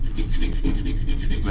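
A fine layer of varnish is rubbed off a tomahawk, producing a continuous, loud scraping rasp with quick repeated strokes.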